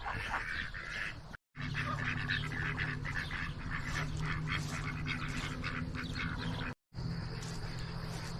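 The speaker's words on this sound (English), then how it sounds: "and the ducks are squawking" Ducks outdoors near a garden bed keep up a busy, loud squawking and quacking. Two brief silent gaps break the calls.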